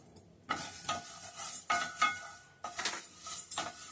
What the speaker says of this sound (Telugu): ఈ విధంగా డ్రై రోస్ట్ చేసుకొని మినుములు మంచిగా వేగిన తర్వాత ఒక ప్లేట్లో తీసుకోవాలి